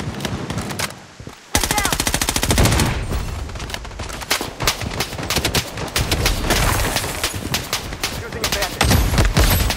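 An M4A1 rifle in the shooter Blood Strike, loud rapid automatic fire in dense sustained bursts after a brief lull, with short in-game voice callouts over the shooting.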